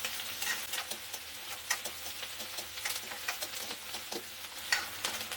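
Onions frying in a pan for a quick capsicum dish, a soft, steady sizzle with scattered light crackles and ticking pops, fairly quiet and without speech.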